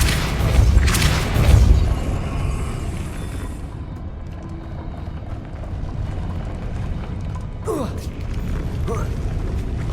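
Hogwarts Legacy Depulso spell cast, a deep booming whoosh followed by grinding, creaking mechanism sounds and a later rising magical swish, with a voice speaking briefly at the start.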